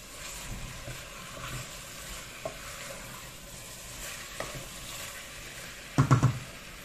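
Meat drops into a hot pot for stew and sizzles, a burst of crackling frying near the end after a low background hiss and a few faint clinks.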